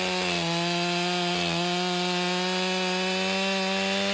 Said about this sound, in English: the Stihl saw is cutting a larger cut to make it all the way through the full diameter of this log